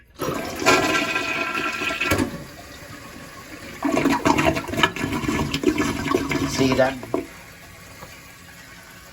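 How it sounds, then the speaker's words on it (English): A Mansfield Summit toilet flushes with its flapper on the factory setting, a press-and-release flush giving a loud rush of water that fades to a quieter refill, with brief talk near the start. "this is how it flushes on the factory setting, and this is a press and release flush"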